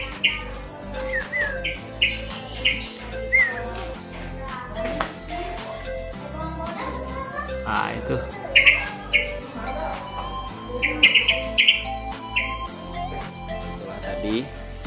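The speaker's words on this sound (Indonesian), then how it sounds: "Nah ini jagal Papua hitam, black jagal Papua, burungnya super jinak." A black butcherbird calls with short bright chirps and whistled notes, repeated at intervals over a steady low rhythmic hum, while a person speaks nearby.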